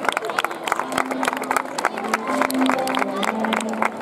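At a festival queen coronation, a crowd gives a brief burst of applause, with scattered clapping crackling over voices and room noise throughout.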